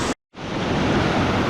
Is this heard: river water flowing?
yes